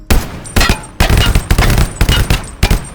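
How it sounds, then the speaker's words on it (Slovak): A machine gun in the video game Minecraft firing loud, close bursts of rapid shots, four or five volleys in quick succession with brief gaps between them. "Okay, ďalšia zbraň je machine gun."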